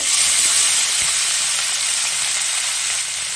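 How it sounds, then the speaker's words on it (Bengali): Morla fish frying in hot oil in a wok, a loud, steady, dense sizzle that holds without pause throughout, with no voices. "কড়াতে তেল দিয়েছি, এবারে মোরলা মাছটা ভেজে নেব।"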